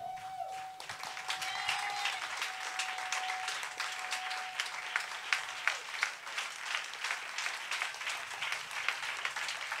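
A church congregation applauding at a Sunday service, steady rhythmic clapping kept at a moderate distance and fairly soft, with a sustained organ or keyboard tone early on.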